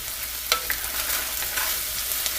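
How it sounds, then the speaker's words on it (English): Seasonings like black pepper and salt stirred into corn chowder in a pan, a steady close sizzle broken by a few sharp spoon clicks and scrapes. "And stir all these seasonings up in here."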